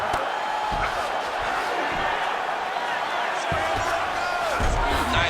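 Simulated arena crowd in the UFC 5 video game reacts to a ground strike during a flyweight bout, a continuous roar with scattered cheers and thumps under steady background noise.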